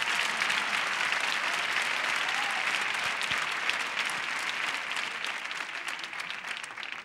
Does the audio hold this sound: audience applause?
yes